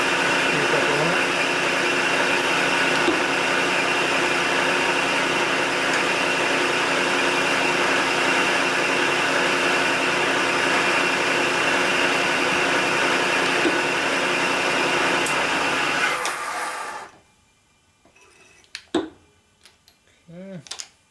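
Drill boring an oil line feed hole into a Harley Panhead-to-Knucklehead cam cover whines steadily and loud for about seventeen seconds, then cuts off, leaving a few faint clanks and handling noises.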